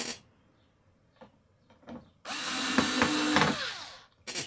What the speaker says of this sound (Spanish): Ahí lo tengo, lo estoy atornillando.